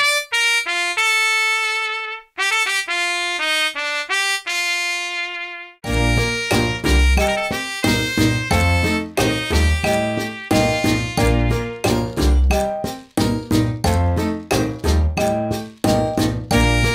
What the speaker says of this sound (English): next I've loaded up a trumpet, which sounds like this